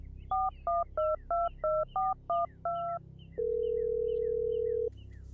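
A mobile phone dials out with a quick series of eight short electronic keypad beeps, then a single longer steady tone, clean and close as an audiobook sound effect.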